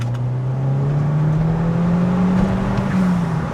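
A Mk5 Golf GTI accelerating hard on an open road, its steady engine note rising smoothly in pitch under load, loud and close from inside the car.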